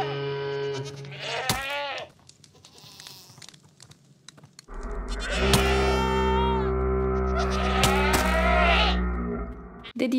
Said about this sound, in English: Did you know that screaming goats attack way more often than the normal ones?